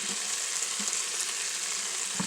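Mushrooms hit browned chicken frying in an Instant Pot, producing a steady, close hiss of sizzling with a few soft stirring knocks underneath.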